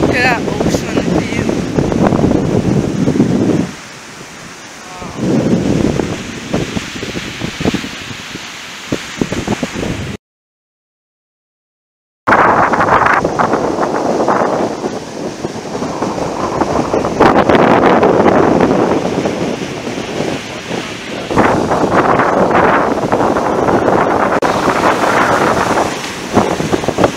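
Wind buffeting the microphone at Maracas beach, with ocean surf washing beneath it in loud, gusting surges, broken by a brief dropout partway through, as someone talks over it.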